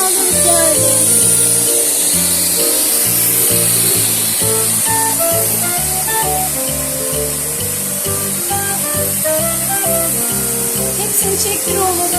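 A Bosch vacuum cleaner sucks up kinetic sand with a steady, loud airy hiss throughout, while a melodic tune plays along in the background.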